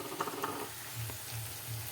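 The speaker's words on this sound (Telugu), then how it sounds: "ఇవన్నీ వేగేటప్పుడే నేను ములక్కాయలు కూడా వేసేస్తున్నాను." Drumsticks frying in a pan with salt and turmeric, a steady close sizzle with a few stirring clinks near the start, no talking.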